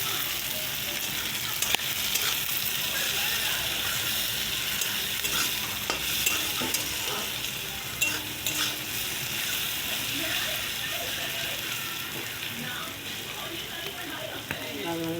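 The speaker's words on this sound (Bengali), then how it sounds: "পেঁয়াজ ভাজা হয়ে গেছে লাল লাল করে।" Onions sizzle and fry in a pan with light salt, stirred steadily throughout, a continuous close crackling hiss with scraping strokes of the spoon and no voices.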